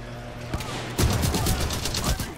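Rapid burst of gunfire from a shotgun and other weapons in the Titanfall 2 campaign, loud close shots in a quick rattling series lasting about a second and a half.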